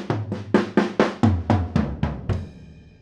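A drum kit with five toms, kick, snare and cymbals, captured by ordinary mics tucked into a room corner, plays about ten quick, evenly spaced hits that descend around the toms and finish on a ringing cymbal, roomy and slightly distant.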